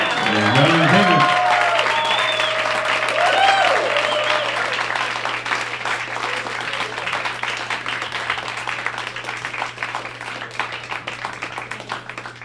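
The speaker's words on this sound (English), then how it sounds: "I said we don't need applause" Theater audience bursting into applause, dense and loud at first with a few whoops, then thinning into a long, steady clatter of clapping that slowly fades.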